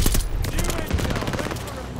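Dense, overlapping gunfire crackles throughout a Call of Duty Vanguard match, with rapid shots at shifting distances and loudness.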